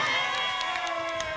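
Everett high school basketball fans in a gym cheer and shout together in a brief, loud burst with overlapping raised voices.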